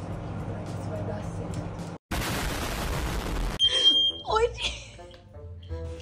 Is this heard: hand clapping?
no